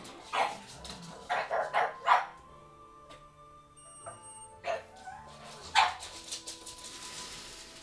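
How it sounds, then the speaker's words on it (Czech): Dog barks in short clustered bursts, several yaps in a row near the start, then isolated louder barks later, heard in a medieval-style video game session with a steady background tone between them. "Hold, budete muset přežít se štěkotem."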